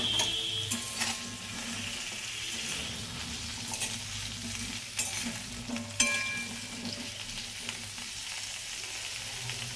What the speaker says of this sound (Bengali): তার জন্য পেঁপেটাকে ভেজে নেব